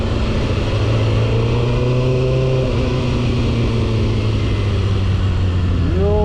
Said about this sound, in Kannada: ಅಯ್ಯೋ ಜಾಸ್ತಿ ಗಾಡಿಗಳು ಹೋಗ್ತಾ ಇದ್ದಾವೆ.